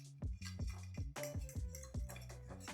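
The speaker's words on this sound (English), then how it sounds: "Now I'm just going to whisk everything together to get it well combined." Olive oil marinade being whisked in a bowl for Greek-style lamb chops, giving a quiet series of quick rhythmic clinks and scrapes of the whisk against the bowl, close and faint.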